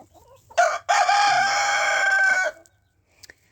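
A rooster on a homestead farm gives one loud, close crow lasting about two seconds, with a short clucking note before it and a quiet yard afterwards.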